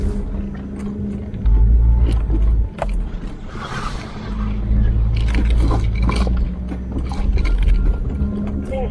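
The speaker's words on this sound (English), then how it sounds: "I am driving a big ass red Jeep" A big red Jeep drives off road in Cape Breton, with a steady low engine rumble and bumpy rattles and splashes of wheels over rough, wet ground throughout.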